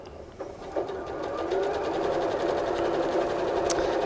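A sewing machine stitches quilt pieces together, its steady mechanical whir running close and continuous after a brief start, with a few light handling clicks and no talk.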